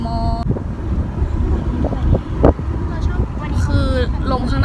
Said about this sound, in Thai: คือลมข้างหน้าแรงมาก